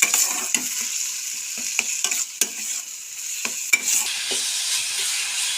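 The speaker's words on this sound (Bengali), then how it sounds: "সর্ষে বাটা দিয়ে খুব ভালোভাবে নাড়াচাড়া করে নিলাম।" Hog plum blossoms with mustard paste are stirred in a pan, a soft steady sizzle broken by sharp metallic spatula clinks and scrapes against the pan, close and clear, no speech.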